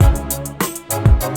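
A deep processed voice pitched down 12 semitones by a vocal transformer effect, with a low, thick tone, sounding in short bursts with brief gaps, loud and close.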